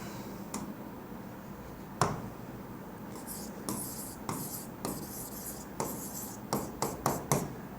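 Chalk or marker strokes on a board during a chemistry lecture, a series of short sharp taps and scratchy scribbles in irregular bursts, close and clear with no talk over them.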